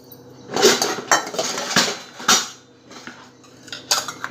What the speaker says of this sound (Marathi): भांडी ठुलते मी करायला आता